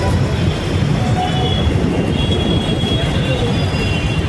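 Steady rumbling rail noise of a train at a railway station, loud and continuous, with faint squealing tones and a busy background throughout.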